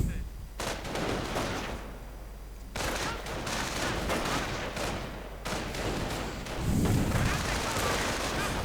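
Sustained video-game rifle gunfire from a squad armed with BARs in a WWII strategy match, dense overlapping bursts and distant booms forming a continuous battle din, with a commentator talking over it.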